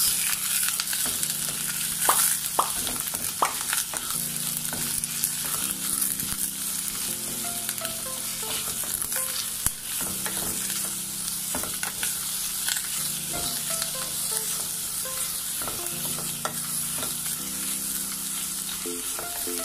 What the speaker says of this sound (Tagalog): Pinagsama-sama ko na yung bawang, sibuyas. Saute lang natin yun ng 3 to 5 minutes.